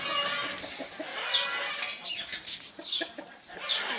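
Farmyard chickens cluck softly in a coop with chicks, several birds murmuring together at close range, with a few sharper high calls cutting through.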